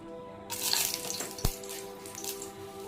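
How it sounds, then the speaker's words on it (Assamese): Meat sizzles steadily in a hot frying pan, a bright hiss that swells after a quiet start, with a single sharp clink of a utensil partway through. "এতিয়া এইখিনি ফ্ৰাই কৰা হৈছে।"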